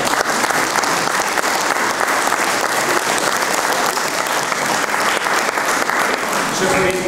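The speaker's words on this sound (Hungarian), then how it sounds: "ez nagy taps önöknek" A crowd at a Christmas school event in Berzel, Hungary, gives loud, sustained applause, with dense clapping filling the whole stretch and a voice faintly underneath.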